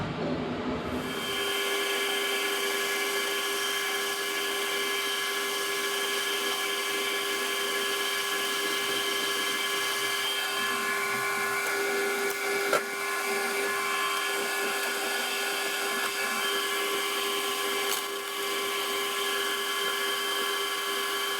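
A lathe boring bar cuts out the bore of a tailstock chuck hub, producing a steady, close, whining metallic drone that starts abruptly and runs unbroken for about twenty seconds, with a couple of brief sharp ticks.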